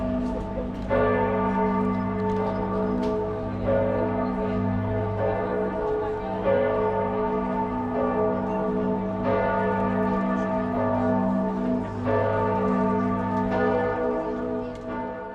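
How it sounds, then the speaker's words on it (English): Church bells ringing from a bell tower in Florence in a continuous peal, rich overlapping tones struck repeatedly at an even pace, loud and resonant with no talk. "after we got down, the bells started going off. So here is the bells."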